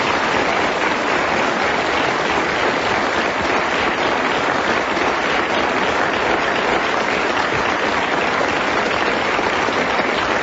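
Studio audience applause at a recording of the radio panel game Just A Minute, a dense, steady wash of clapping that fills the whole stretch at strong, even loudness, with no voices over it.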